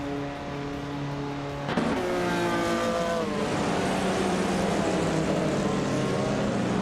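Race cars including a Porsche 914-6 roar around a circuit, engines droning steadily loud with rising and falling pitch as cars pass and shift, no voices.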